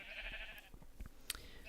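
A Minecraft sheep in a pen lets out a faint, short bleat, quiet and distant over soft background sounds.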